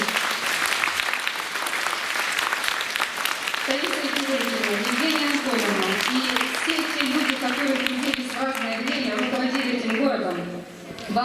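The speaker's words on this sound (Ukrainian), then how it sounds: "Дружными аплодисментами давайте поприветствуем" Loud, steady applause fills a hall at a municipal council ceremony, continuing for several seconds while a voice speaks over it partway through before the clapping tapers.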